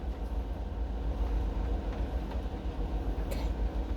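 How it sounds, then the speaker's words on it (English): A train rolls past, a steady low rumble with rattling wagons filling the whole stretch, fairly close and continuous with no voices. "10 solid seconds of train. just 10 whole seconds of train listening."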